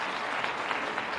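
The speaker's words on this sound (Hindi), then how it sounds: "जोरदार ताली बजा भाई" An audience at a youth dialogue event in Bhopal claps together in dense, steady applause, evenly sustained and moderately loud throughout the brief moment.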